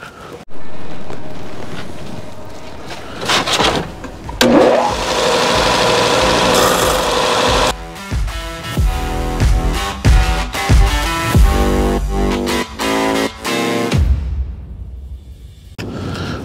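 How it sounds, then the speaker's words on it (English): A bench grinder roughs out the profile of a replacement pocket knife blade, a loud sustained whine and rushing grind that comes in bursts as the steel is pressed on and pulled away, alone without talk. "We're going to take it to the grinder and get our rough profile in there."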